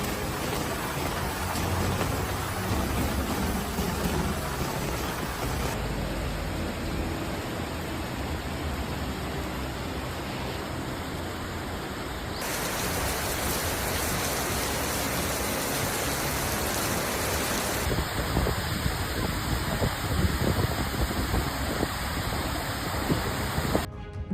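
Heavy rain pours steadily in Okinawa, Japan, a dense, even hiss that stays loud and unbroken throughout with no distinct thunder claps, no voices.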